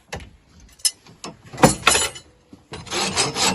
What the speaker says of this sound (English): I like to start to rasp the heels from the hoof side.